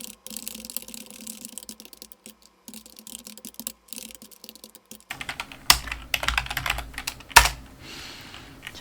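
Computer keyboard keys are pressed in quick irregular bursts of soft clicks, quieter at first and then a louder, denser stretch of sharper taps toward the end.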